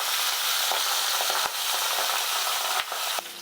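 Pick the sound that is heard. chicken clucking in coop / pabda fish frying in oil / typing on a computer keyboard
pabda fish frying in oil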